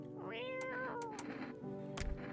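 A video-game cat gives one drawn-out, clear meow, followed by light clicks and a soft thump, with no talking.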